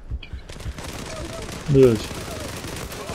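Rapid gunfire in a video game shooter, a quick burst of clustered shots under someone talking, with a short louder flurry mid-clip.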